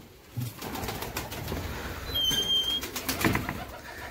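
Pigeons kept by a pigeon fancier coo and flutter in a loft, soft wingbeats and murmuring calls mixed with faint background bustle.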